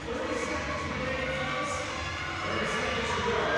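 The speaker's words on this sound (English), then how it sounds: "the crowd's starting to go wild" Crowd cheering at the 2019 CrossFit Dakota Games, a dense continuous roar of shouts and voices that stays loud and even from start to finish.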